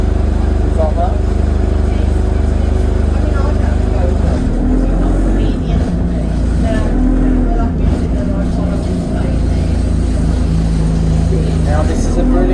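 The engine of a Johnson Buses service bus on the Dudley to Stourbridge route drones loud and steady throughout the ride, a continuous low rumble with shifting gear tones and someone talking over it.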